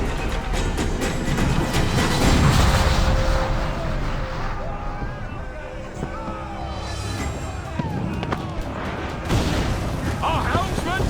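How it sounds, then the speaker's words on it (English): Ship cannons firing in Assassin's Creed 4 Black Flag, heavy continuous booming and rumbling naval battle noise with dense overlapping blasts, loud and close throughout, a brief lull midway before the barrage resumes. "Man the cannons!"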